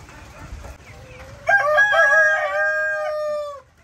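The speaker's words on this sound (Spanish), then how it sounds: "los gallos cantando" Roosters crow on a farm during a storm, one loud, clear cock-a-doodle-doo rising and holding for about two seconds close by, over soft background noise of rain.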